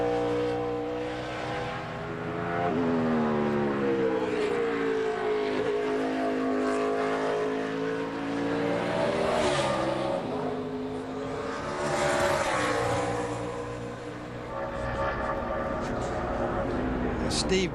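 A NASCAR race car engine running a qualifying lap in the 2005 Zippo 200, a high, sustained engine wail rising and falling through gear changes and corners, loud and continuous beneath a commentator's talk.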